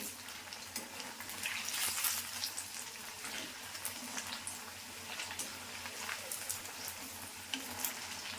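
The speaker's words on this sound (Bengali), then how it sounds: "মোচমোচা করে একদম ভেজে নিয়েছি লাল লাল করে।" Cauliflower for gobi manchurian frying in hot oil, a steady, quiet crackling sizzle with scattered pops throughout, no speech.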